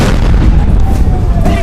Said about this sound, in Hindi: बहुत बड़ा धमाका होता है।